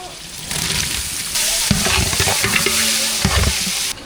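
Onion, green chilli and tomato sauté for a mutton biryani, a loud, continuous close sizzle with spatula scrapes and stirring clatter running throughout, briefly swelling as the pan is worked.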